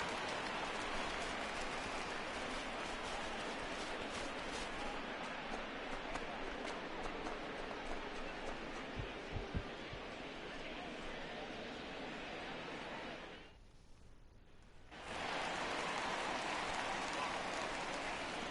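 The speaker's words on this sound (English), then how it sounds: "We got some rain here." Rain pours steadily at an outdoor baseball game as an even hiss across the whole span, with a few faint thumps partway through. A brief drop in the sound near the end is followed by the same steady downpour.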